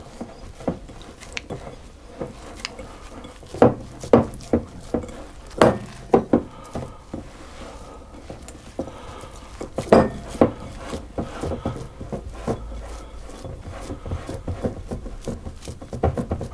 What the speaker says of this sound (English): I want to mix that until the oats are all adhering to